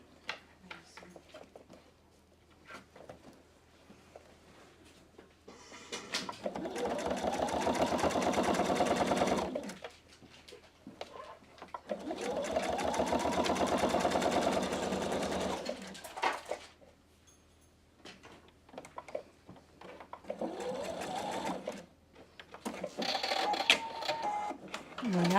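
A PFAFF Expression 720 sewing machine stitches a seam in three bursts of rapid, even mechanical whirring, each several seconds long, with quiet pauses between them and someone talking during the gaps.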